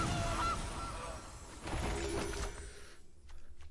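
A goose honks in a Magic: The Gathering video game, a short faint call early on, followed by a busier burst of game effects and noise before a quieter tail.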